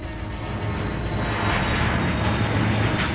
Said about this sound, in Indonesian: sebuah pesawat baru saja mendarat dari Malaysia